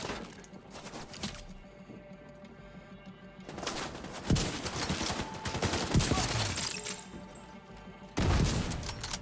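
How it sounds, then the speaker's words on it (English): Enemies firing guns at a decoy in the video game Division 2, with bursts of gunfire and booming impacts in dense clusters broken by short lulls, fairly loud and mixed with other game sounds. "as long as the enemies are firing at the decoy"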